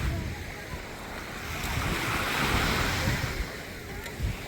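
Sea waves washing onto a clean sandy beach, a steady wash of surf mixed with wind noise on the microphone, continuous and fairly close.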